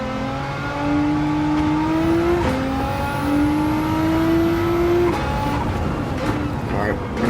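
Race car engine in Gran Turismo 7 roaring at over 200 mph, a loud sustained high-pitched whine with rising and falling pitch sweeps as the car brakes and shifts for a corner, with a voice talking over it.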